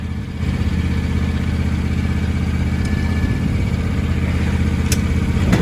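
A John Deere X350 riding mower engine runs steadily at close range, a loud, continuous low rumble with a light mechanical clatter that holds even throughout.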